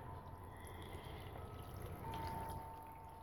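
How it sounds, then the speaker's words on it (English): Room temperature water pours steadily into a container, a continuous soft trickling wash lasting several seconds with a faint ringing tone rising in pitch as it fills; nobody talks. "I'm just going to pour some water in now."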